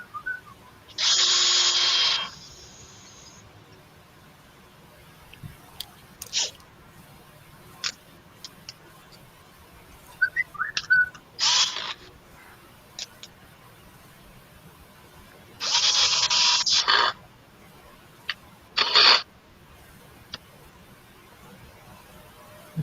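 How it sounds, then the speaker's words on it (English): A power screwdriver whirs in several short, loud bursts separated by quiet stretches, with occasional clicks and handling noises between runs. "That sounds like some serious power tools."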